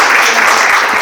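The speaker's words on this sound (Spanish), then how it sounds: "así que un fuerte aplauso" A university lecture audience gives a loud, dense burst of applause welcoming speakers on traditional knowledge and biocultural heritage, close and continuous for a short moment, no voices.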